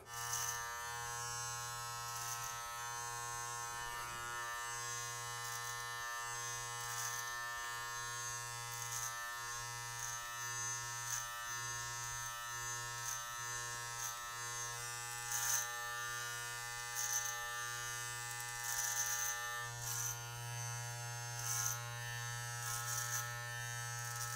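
An electric hair clipper with a number 2 guard buzzes steadily up close, its hum rising and thinning in places as it cuts through hair, with faint crisp snipping textures.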